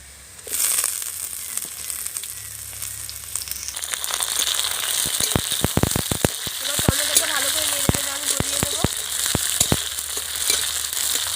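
Chopped tomatoes hitting hot oil with fried onions in a pan for vegetable khichuri, a steady close sizzle and crackle with sharp spattering pops and scraping stirs, loud and continuous without talk.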